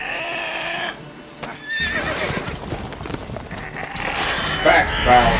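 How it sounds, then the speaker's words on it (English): A horse in The Witcher 3 whinnies shrilly while hooves clop at a brisk, uneven pace, the neigh sharp and near, with voices talking over the scene. "That poor little horse."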